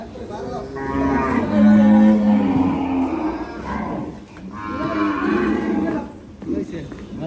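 Bulls in a cattle shed moo loudly and close by, with two long, deep lowing calls separated by a short pause.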